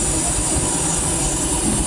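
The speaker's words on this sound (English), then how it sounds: "Oh, I'm putting water in right now. That's what that noise is." Steam locomotive on the Disneyland Railroad with its injector feeding water into a 125-pound boiler, heard from inside the cab as a steady, loud hiss and rushing roar over low rumbling running noise.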